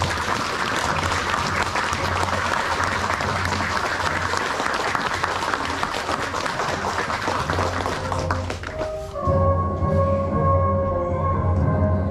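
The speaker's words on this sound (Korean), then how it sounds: "그런 주임원사의 임무교대를 위한 열병에 큰 박수로 축하해 주시면 감사드리겠습니다" Loud, dense applause from a large audience at a military parade marking a brigade command sergeant major's change of duty, holding steady for about nine seconds before a brass band takes over.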